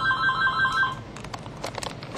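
Telephone ringing during an automotive ignition-system lecture: a steady electronic ring for about the first second, then fading into quieter room noise with scattered clicks.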